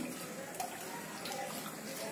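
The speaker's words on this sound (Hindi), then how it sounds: "उसमें हम ऐड करेंगे पानी" Water is poured into strained ground mango for a shake, a continuous soft hiss and splash of running water that stays steady and close throughout.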